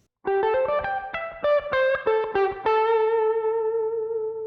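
An electric guitar with a light effects sheen plays a quick minor pentatonic lick of picked notes, ending on a long sustained note that rings out.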